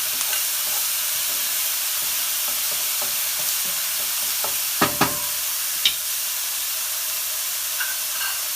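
Garlic sizzling in a hot pan for a vegan eggplant cacciatore, a steady soft frying hiss throughout with a few sharp crackles and spatters near the middle.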